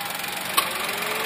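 A small 1000 cc turbocharged three-cylinder engine in a Toyota Raize, uncovered with no engine cover, idles steadily with the air conditioning running, giving a continuous even hum with one brief sharp click partway through.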